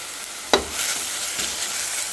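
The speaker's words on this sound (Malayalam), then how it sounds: "ഇനി ഇതിലേക്ക് ഇഞ്ചി വെളുത്തുള്ളി പേസ്റ്റ് ഇട്ട് കൊടുക്കാം" Ginger garlic paste hits browned onions in a hot pan for a tomato curry: a sharp scrape of the spoon, then a steady close sizzle with a faint second stir, no voices.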